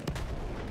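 A grenade goes off in the World War I shooter Battlefield 1, one short, sharp blast at the very start that fades into a rumbling tail.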